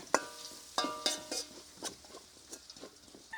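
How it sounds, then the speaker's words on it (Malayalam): Onions frying with green chillies and curry leaves, stirred for a Kerala roasted coconut chicken curry: several close clinks of a spoon against the pan over a soft sizzle. "ഇനി ഇതിൻ്റെ കൂടെ കുറച്ച് കരിവേപ്പിലയും കൂടി ഇട്ടിട്ട് നന്നായിട്ട് ഇളക്കി ഉള്ളിയൊക്കെ ഒന്ന് വഴണ്ട് വരട്ടെ."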